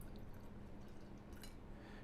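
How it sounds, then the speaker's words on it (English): Melted ghee being poured from a pan into a jar, heard as a faint, continuous liquid trickle with a few light drips against quiet background noise. "I'm going to pour this into my jar"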